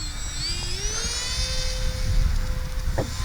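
An RC model airplane, an Avios Albatros V2, takes off without flaps, its electric motor whining steadily and rising in pitch as it climbs, fairly loud over light outdoor wind noise, with no talking.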